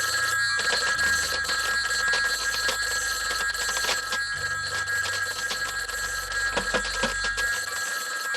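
A telephone bell rings insistently in a 1980s slasher parody film, rapid metallic trills repeating over a low musical drone, loud and close with no speech.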